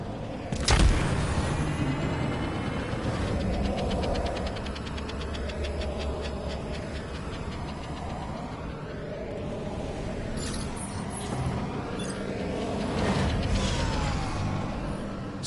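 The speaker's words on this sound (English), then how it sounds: "Stark Resilient class propulsor engines. Twice the horsepower at a quarter the weight." Stark Resilient class propulsor engines in the Iron Man VR video game give off a sustained mechanical whirring roar with creaking, sweeping tones, swelling louder near the start and again toward the end.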